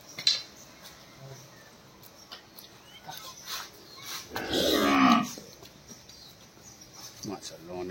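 Cattle at a livestock sale give one loud, drawn-out moo of about a second midway through, amid a noisy outdoor crowd with people talking and a sharp knock near the start.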